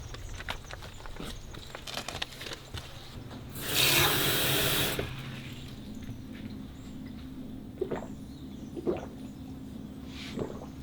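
A brief rush of water running through a UV drinking-water filter surges for about a second over a low steady hum, followed by a few faint clicks and knocks.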